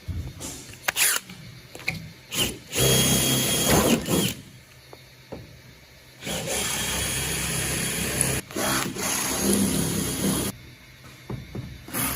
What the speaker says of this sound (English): I'm gonna drill it apart here